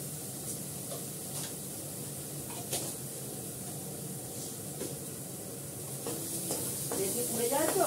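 Fenugreek seeds and Kashmiri chilli powder sizzle in a small amount of hot oil, a steady close frying hiss with light stirring scrapes and clinks, swelling louder toward the end.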